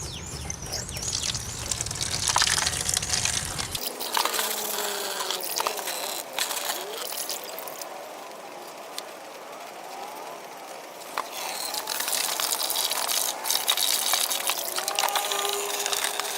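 Water gently washes over the top of an egg incubator, kept away from its electronics: a steady hissing spray that starts with a heavier low rush, then settles into a continuous splashing wash.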